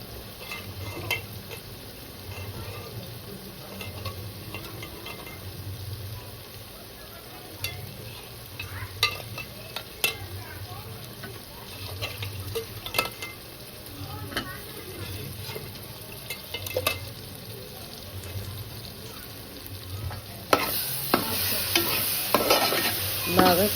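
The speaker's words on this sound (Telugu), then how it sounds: "అన్నీ వేసి బాగా కలుపుకున్నాక ముందుగా కోసి పెట్టుకున్న మామిడికాయ ముక్కలను కూడా వేసుకొని" A spoon stirs fish curry with raw mango pieces in a pan. The scraping comes in a steady rhythm over a soft sizzle, with no talk, and a brighter hiss rises near the end.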